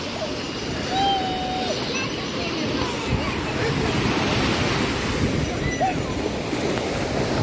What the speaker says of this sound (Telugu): అక్కడ అలల చప్పుడు వాటర్ చప్పుడు అనేది వినాలి